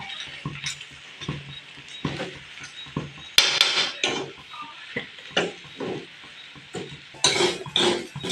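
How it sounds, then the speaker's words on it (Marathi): Repeated knife strokes chopping coriander leaves on a board, sharp taps in an irregular quick rhythm, close and fairly loud with a few brief clattering bursts, no talking. "हे बघा कोथिंबीर चिरत आहे"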